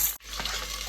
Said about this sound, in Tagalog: Sotayin na natin yung onion.